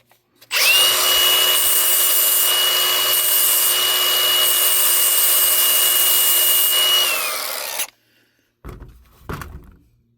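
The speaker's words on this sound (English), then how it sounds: "one other thing I'm going to do is just smooth the edges down on this bolt so it doesn't hurt my rope at all" A power tool grinds steadily for about seven seconds, smoothing the sharp edges of a bolt on a winch line, then cuts off and is followed by a few light knocks and handling sounds.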